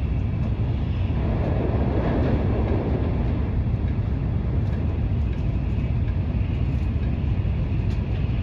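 Tokaido Shinkansen Kodama train racing at about 270 km/h, heard from inside the carriage as a steady, loud, broadband roar and rumble that stays even and continuous from start to finish.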